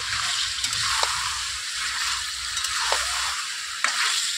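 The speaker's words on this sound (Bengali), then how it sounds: "ভালো করে একটু নাড়াচাড়া করে নেব" Whisked yogurt being stirred into chicken in a pan, with a soft wet sizzle and sloshing and a few sharp spoon scrapes at intervals, steady and close.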